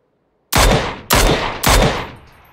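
Three loud, close gunshots in the battle royale game PUBG, evenly spaced about half a second apart, each sharp crack trailing into a brief echoing decay.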